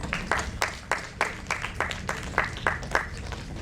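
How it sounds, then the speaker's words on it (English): Scattered applause from a small audience at the THRIVE 2023 event welcomes Rita Verma, head of HR at DDB Mudra Group, with distinct individual claps in an uneven rhythm at moderate distance, steady for several seconds. "A big round of applause for her, please."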